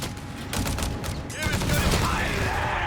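Machine gun fire in Company of Heroes 3 during a 1v1 match, rapid bursts of shots with booming impacts, loud and dense, with a voice over it.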